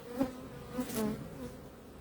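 Honeybees in an open hive with pollen on their legs give a soft, steady buzzing hum, with a few brief louder bursts as individual bees pass close by.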